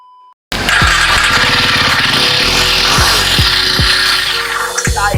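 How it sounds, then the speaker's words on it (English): A Jawa 42 2.1 BS6 motorcycle's exhaust roars loudly and close right after a short electronic beep, holding a steady throbbing note with a few sharp revs. "What an exhaust note."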